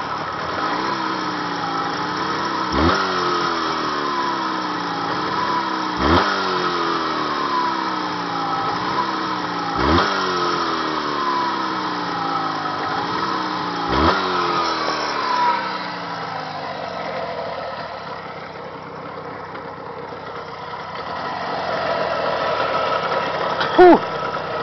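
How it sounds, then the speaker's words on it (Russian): A Jawa 638 motorcycle engine running steadily on test, a close, even idle with rhythmic revs swelling every few seconds, then settling into a rougher, quieter idle before a sharp click near the end. "Звук мотора натуральный."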